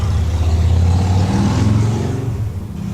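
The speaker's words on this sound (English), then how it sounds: "Gotta love Harley Davidsons." A Harley-Davidson motorcycle engine revs loud and close, with a deep throaty rumble that swells and then eases off steadily over a few seconds, with no voices.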